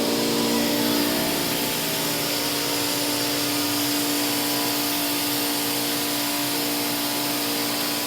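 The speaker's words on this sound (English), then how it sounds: "first thing I will do is vent." A home freeze dryer vents after a chicken batch, a steady loud rushing hiss of air with a constant motor hum, continuing unbroken and close with no talking.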